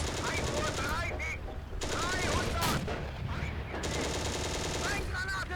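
Rapid bursts of tank machine gun fire from the Steel Fury video game, sustained and loud through most of the clip, with brief pauses between bursts and a voice talking over the shooting.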